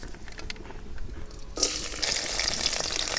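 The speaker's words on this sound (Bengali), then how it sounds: "রসুনগুলোকে খানিকক্ষণ ভেজে নেব," Garlic hits hot oil in a wok: quiet at first, then a sudden loud sizzle that keeps crackling and spitting close by.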